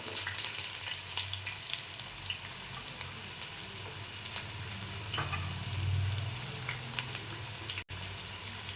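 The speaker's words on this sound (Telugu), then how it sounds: "ఆయిల్ వేడైంది సన్నగా చాప్ చేసుకున్నాం రెండు ఆనియన్" Thinly chopped onions, two of them, sizzle and fry steadily in hot oil in a home kitchen pan, a continuous close crackle with brief stirring clinks, no talk.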